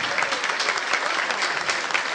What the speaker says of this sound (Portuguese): Uma salva de palmas para o nosso Senhor.